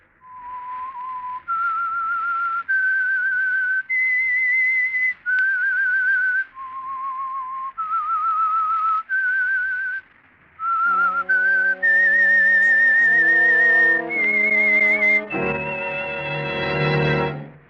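Whistled theme signal for The Whistler radio program, a lone clear melodic whistle of sustained notes, joined near the end by a swelling orchestral accompaniment.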